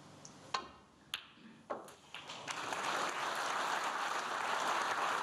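Snooker audience applause at the 2019 Welsh Open quarter-final between Kyren Wilson and David Gilbert, opening with a few sharp clicks and then swelling into a steady, moderately loud spread of clapping across the arena.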